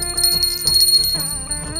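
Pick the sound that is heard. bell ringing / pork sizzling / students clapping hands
bell ringing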